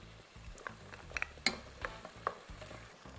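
Soaked chickpeas and dried beans tossed into a hot pan for a wheat stew, a soft sizzle with scattered stirring clicks and a few sharper knocks, close and quiet.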